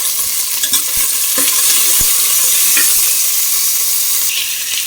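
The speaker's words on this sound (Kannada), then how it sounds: "ನೆಕ್ಸ್ಟ್ ಇದಕ್ಕೆ ಈರುಳ್ಳಿ ಮತ್ತು ಹಸಿಮೆಣಸಿನಕಾಯಿ ಹಾಕೊಳ್ತಿದ್ದೀನಿ" Onions and green chillies drop into hot ghee with cinnamon and cloves for ghee rice, a loud, continuous close-up sizzle with a few knocks and scrapes of stirring and no voices.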